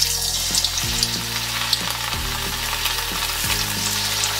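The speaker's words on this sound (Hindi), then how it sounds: "अब एक एक करके मैं तलूँगी।" Battered cauliflower fries in hot oil in a kadhai over a medium flame, with a continuous close sizzle and bubbling that is broken by a few soft stirring clatters.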